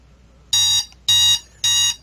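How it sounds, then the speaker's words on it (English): Alert buzzer from the strategy video game Europa Universalis IV, three loud, evenly spaced electronic buzzes, each lasting about a quarter second with a sharp onset, over quiet background. "there goes the buzzer"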